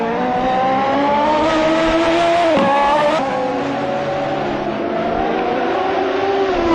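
Race cars circuit Dover Raceway in Jamaica, engines droning loud and steady with rising and falling pitch as they pass and shift, one sharp gear change near the middle, continuous with no talk.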